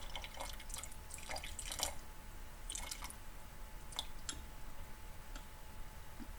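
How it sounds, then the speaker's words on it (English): Water trickles and drips into a sourdough starter jar in a home kitchen, with irregular small splashes and ticks over a quiet background, fairly faint and close. "I'm going to be putting in 60 grams of water, the same as we have the last several days."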